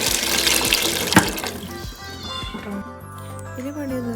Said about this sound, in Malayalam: തിളച്ച വെള്ളം